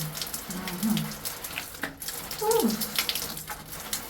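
A tap runs water over a key being washed off, a close, fluctuating splash and trickle with brief clinks, no one talking.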